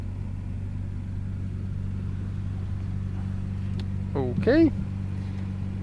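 A 1993 Nissan Skyline GT-R R32 engine idles steadily with a low, even hum, and a person briefly speaks over it near the end.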